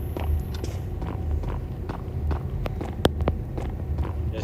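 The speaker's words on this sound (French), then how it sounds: "pourquoi j'entendais des bruits de pas" An animatronic walking in a Five Nights at Freddy's game at maximum difficulty, a series of irregular, fairly close thudding footsteps with a sharper knock partway through.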